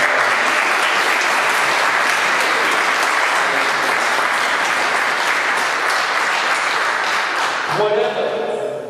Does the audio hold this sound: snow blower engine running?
no